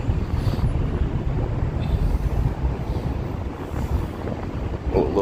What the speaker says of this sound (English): Yeah, wind just picked.